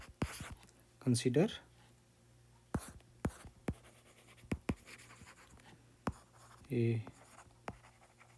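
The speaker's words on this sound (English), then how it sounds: "Let me write this here." Chalk or a marker scratches and taps against a board during a physics lesson, making short irregular strokes and clicks, with someone speaking briefly between them.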